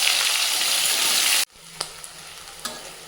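Onions drop into hot oil in a pan with spices, a loud broad sizzle that cuts off abruptly partway, leaving a quieter simmer with a few scattered clicks and pops.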